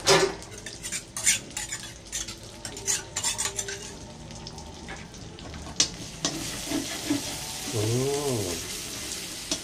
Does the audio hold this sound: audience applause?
no